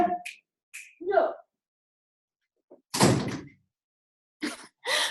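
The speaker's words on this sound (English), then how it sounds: "Let me shut the door." A door is pushed shut in a home with dogs nearby: one solid, close thud midway, with short knocks and brief voice sounds around it.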